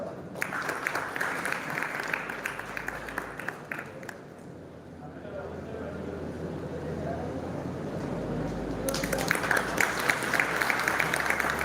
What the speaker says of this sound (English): join me in welcoming Mr. Varun Paranski with a huge round of applause.